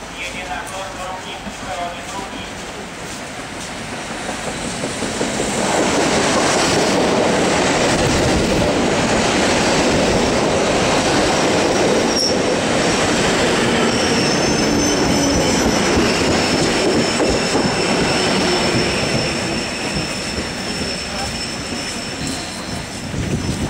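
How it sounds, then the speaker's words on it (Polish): A Polish EN57 passenger train approaches a platform with a swelling roar of wheels and engine that peaks and holds loudly, with a Polish public announcement voice heard at the start. "Pociąg osobowy do Skiernieli jedzie na tor drugi"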